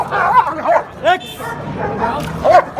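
A fierce, muzzled dog at the Friday dog market in Sayeda Aisha gives several muffled yips, whines and short barks close by, with people talking in the background.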